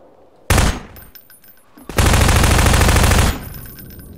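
Automatic gunfire in the shooter game Half-Life 2 comes in two loud, close bursts, a short one and then a longer sustained rattle.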